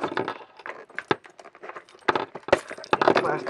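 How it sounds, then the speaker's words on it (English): Scraping, clicking and crunching bursts as a hard plastic bilge pump case is cut open by hand, irregular and close, with no talk. "These plastic cases are so hard to cut."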